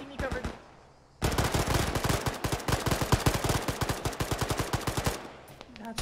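Rapid automatic gunfire in the Arma military game with ShackTac, a few scattered shots and then a long sustained burst of evenly spaced loud cracks, close and dominant, tapering off at the end.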